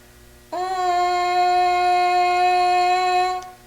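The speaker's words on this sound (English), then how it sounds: "the mouthpiece sounds like this." French horn mouthpiece buzzed on its own: one sustained, steady-pitched buzzy tone lasting about three seconds, close and fairly loud, starting abruptly and fading out at the end.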